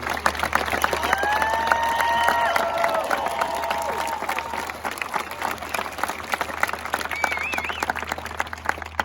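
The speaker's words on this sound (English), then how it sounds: "Let's give one last round of applause for the senior class and their amazing accomplishments." A large crowd claps steadily for the senior class at a graduation ceremony, dense applause filling the hall with a few whistles and cheers rising over it and scattered voices underneath.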